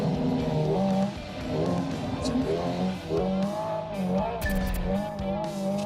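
A Hyundai Ioniq 5 N electric car's synthetic engine tone, linked to simulated RPM, rises and falls with the car's speed, surging and easing in several waves, with no voices.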